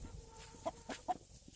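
A few short, soft clucks from chickens, two or three brief calls against a quiet background.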